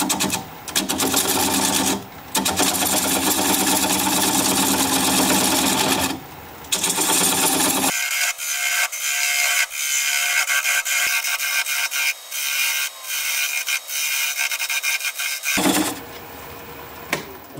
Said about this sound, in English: I'm gonna use a 3/8 inch bowl gouge and commence removing that tenon.